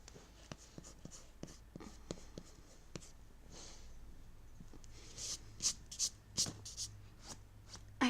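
An eraser rubbing pencil sketch marks off a drawing: soft, close, scratchy strokes in a loose rhythm, ending in a few louder, quicker swipes.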